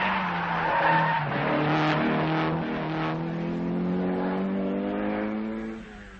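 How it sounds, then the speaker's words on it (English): A Skoda rally car driven hard on a mountain pass stage of the 1978 Danube Rally, its engine revving up and down through gears with tire skids, loud and close, and no voices. "The Czechs, Blana and Hlavka in the Skoda, really trying"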